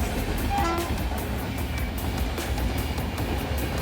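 A Kerala Express hauled by a WAP-7 electric locomotive pulls into a station, giving a steady, loud rumble of wheels and rail noise throughout, with a brief tonal horn-like note early on.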